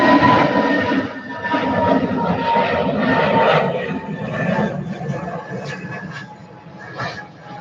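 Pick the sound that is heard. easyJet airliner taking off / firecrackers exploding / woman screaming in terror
easyJet airliner taking off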